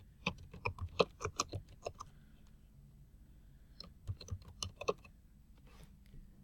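Quick bursts of keystrokes on a computer keyboard as a slide title is typed into a PowerPoint presentation, close and fairly quiet, two clusters separated by a short pause.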